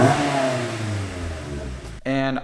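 Stock-muffler Mazda Miata NC engine revving up and falling back, a rising raspy intake-heavy drone, then a sharp second rev near the end, close and loud.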